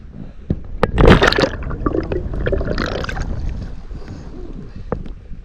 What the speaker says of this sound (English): You can hear people on the the kayaks and canoes just out recreating.